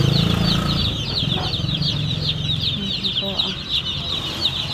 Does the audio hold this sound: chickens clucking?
yes